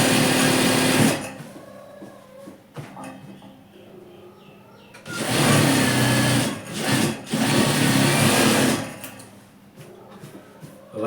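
A sewing machine runs straight seams on capri fabric in two long whirring bursts, loud and close, separated by quieter pauses with faint handling noises.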